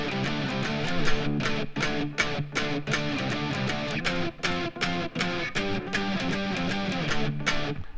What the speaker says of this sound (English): Alright, so then we have the main riff of the song.